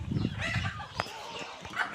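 Free-range desi hens clucking on a village poultry farm in Konkan, a few close, overlapping calls rising over a dense background of flock chatter.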